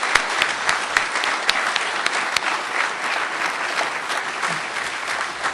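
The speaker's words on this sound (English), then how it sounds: "So please give them a round of applause." Graduation ceremony audience applauding, dense steady clapping from a large crowd with a few sharp louder claps standing out, continuing for several seconds.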